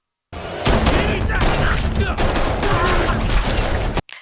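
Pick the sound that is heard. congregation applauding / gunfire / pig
gunfire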